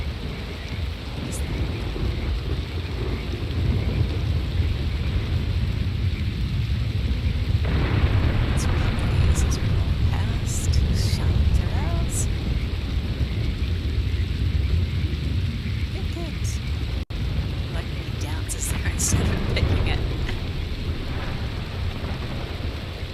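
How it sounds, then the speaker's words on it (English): Steady rain with low rumbles of thunder in the Red Dead Redemption 2 video game, a continuous wash of rainfall with deep thunder swells, loud and unbroken throughout. "The best thing about the rain in this game is seeing your horse all shiny."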